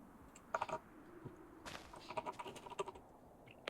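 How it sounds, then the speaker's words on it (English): Fast, forceful typing on a computer keyboard comes in clustered bursts of sharp clacks, quiet and slightly distant, with no talk. "Why is Frisk just typing aggressively on the background?"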